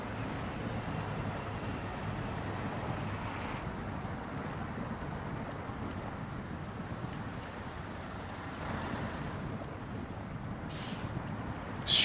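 Heavy truck ploughing through a deep body of water in the Snowrunner video game, a continuous broadband rushing wash and low engine rumble that stays steady and loud throughout, with brief shifts in the splashing texture.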